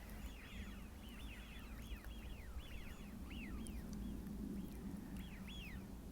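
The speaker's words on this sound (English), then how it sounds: "It's nice to hear them calling to each other." Coastal water birds floating on a bay call back and forth in repeated, rising chirping notes, faint and somewhat distant over a steady low background rumble.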